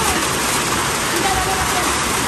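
Loud, steady rain roars as a constant broadband wash, drowning out everything else for the whole stretch.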